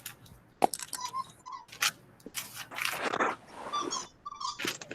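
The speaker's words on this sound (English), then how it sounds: "I'm sorry if you hear that squeaker in the background." A pet dog squeaks and chews on a squeaker toy close by in a quiet room, the squeaks coming in short irregular bursts.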